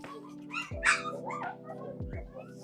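Bulldog and Staffordshire terrier puppies let out a few short, high yips and small barks close by in a maternity pen, with a person's voice mixed in among them.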